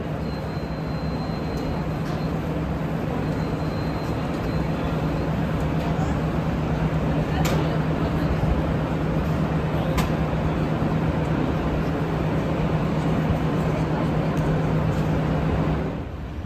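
The Roosevelt Island aerial tramway cabin in NYC rides along with a steady mechanical hum and rumble, joined by a few faint clicks and brief background voices.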